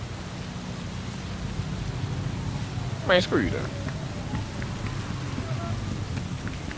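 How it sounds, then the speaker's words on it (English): Steady rain pours in Night City in the video game Cyberpunk 2077, a constant soft hiss of falling drops beneath a voice, with a brief tonal game sound cutting in midway. "It started raining quick."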